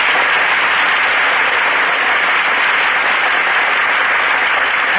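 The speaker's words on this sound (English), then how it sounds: "The audience breaks into applause as Joan Blondell and Melvin Douglas enter" A studio audience at a 1940s Gulf-sponsored radio theater broadcast applauds as film stars walk onstage, a steady, dense wash of clapping heard through narrow-band old radio recording quality, unbroken and even throughout.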